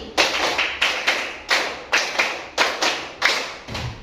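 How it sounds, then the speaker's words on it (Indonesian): A school class claps their hands together in a counted rhythm. The sharp, unison claps fall in short grouped bursts, loud and near, with no talking. "tepuk 1, tepuk 2, tepuk 3, tepuk 4, tepuk 5"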